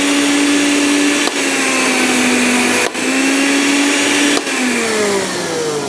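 A household blender and an electric water pump run at the same time on a 450-watt home electricity supply, making a loud, steady, close motor whine. Its pitch dips and drifts a few times, with no talk over it.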